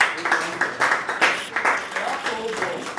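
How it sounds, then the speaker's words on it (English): A short burst of applause from a modest crowd at an end-of-year party, with distinct rhythmic claps and a voice speaking through it. "I think I deserve a round of applause for that."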